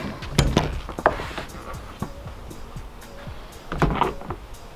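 A side door on a mobile car detailing trailer swings open with a few sharp knocks and thunks of the latch and panel, close and moderately loud, then a quieter rattle and a final clunk.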